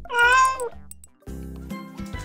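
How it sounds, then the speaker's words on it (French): A cat lets out a drawn-out, rising meow up close, followed by quieter sounds over a soft background. "C'est un chat."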